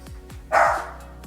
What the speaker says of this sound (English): He sees a dog, and when he sees a dog, there's no calming him down.